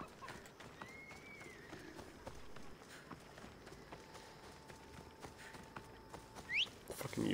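Hoofbeats of a horse galloping in Assassin's Creed: Odyssey, a steady moderate-level clip-clop rhythm running through the clip over game ambience, with a brief louder burst near the end.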